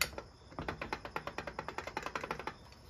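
The crankshaft of a Stihl MS200T chainsaw with bearing play gives a close, rapid series of light mechanical clicks, about twenty in quick even succession, heard alone.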